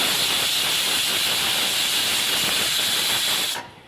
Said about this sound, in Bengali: এখানে সিটি মারছে